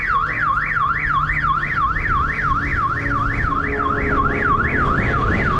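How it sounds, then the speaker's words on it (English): An alarm sounding from a building rises and falls in a steady, rapid electronic warble. The tone holds loud and continuous the whole time over a low background rumble, with no talk. "I guess that guy set off the alarm for that building"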